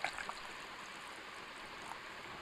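Water pours steadily into a juicer jug, about two glasses' worth, for peach juice: a continuous close splashing rush with no talk over it.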